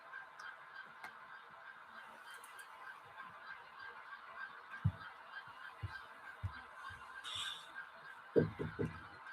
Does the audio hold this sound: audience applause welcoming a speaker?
no